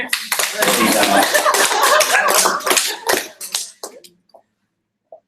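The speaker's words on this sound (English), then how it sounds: "Oh, you can applaud louder than that." Audience applause at an urban sustainability design expo, dense and loud for about four seconds, then thinning to a few scattered claps before quiet.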